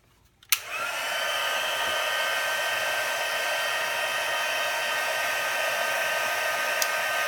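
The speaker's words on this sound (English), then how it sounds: "we're going to bring in our Stampin' Up! Heat tool, and we're going to heat set this" A Stampin' Up! heat tool switches on with a click and blows a steady, loud airy whoosh with a faint whine while heat setting silver embossing powder on a card, running continuously at close range.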